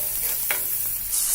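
Chopped onions sautéing in oil with ginger and garlic for chicken fried rice, a soft close sizzle broken by a quick scraping stir.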